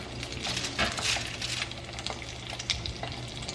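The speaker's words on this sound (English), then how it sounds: "you just want to drop them into your oil" Crab balls dropped into hot oil, giving a steady, close, fairly quiet sizzle and crackle with a few brief pops and light clinks of the pan, and no voices.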